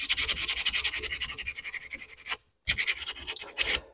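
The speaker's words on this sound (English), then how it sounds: "let's get out our sandpaper. And let's get to sanding." Sandpaper rubs epoxy on the spoke of a classic GM steering wheel in fast, even back-and-forth strokes, close and crisp, with one short pause before the rhythmic scratching resumes.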